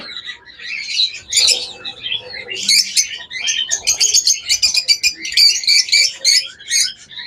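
A bonded pet bird pair, with the male calling, gives bursts of bright chirps and tweets in quick irregular clusters, close and fairly loud, with brief gaps between phrases.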